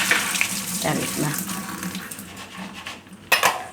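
Peanuts are washed under a running kitchen tap, with a splashing water stream, a brief clink of a utensil, and a sharp splash burst near the end.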